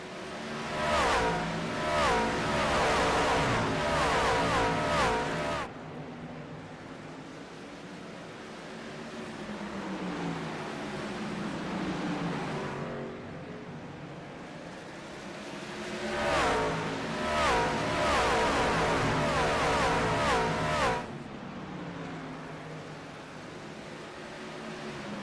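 Race trucks in a Chrysler, Jeep, Dodge, Ram Truck Series race at Bristol roar loudly past in two swelling bursts of engine noise, with a steady drone of running engines between them.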